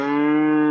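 A young feeder calf on a cattle farm lets out a single loud, close, sustained bawling moo, steady in pitch, with no talk over it.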